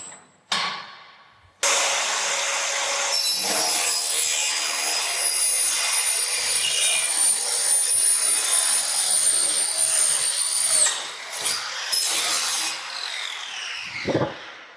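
A profiling and angle cross-cutting machine saws through a timber rafter at a 30-degree angle, giving a steady, sustained cutting whine with rasping texture for about ten seconds before stopping, followed by a few brief knocks.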